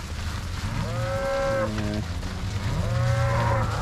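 Cattle moo loudly and close in two long, drawn-out calls over a steady outdoor background while being moved through a gate into the next paddock.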